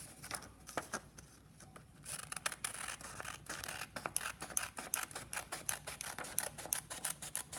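Scissors cut a paper rubric around its outside edge, a run of close, crisp snipping strokes in a quick irregular rhythm that gets busier partway through.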